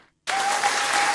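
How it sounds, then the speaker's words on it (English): An audience breaks into applause after a brief near-silence, a dense burst of many hands clapping that stays loud and steady to the end. "They're applauding."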